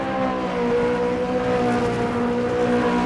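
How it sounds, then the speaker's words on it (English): A Formula 1 car engine in the racing game Automobilista 2, at Jacarepagua, drones steadily at high revs, loud and sustained with a buzzing, tonal whine throughout. "hear the engine noise"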